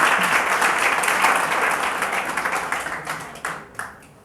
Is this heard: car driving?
no